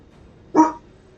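A single sharp bark from a puppy indoors, short and fairly close, standing alone against a quiet room with a faint trailing yip.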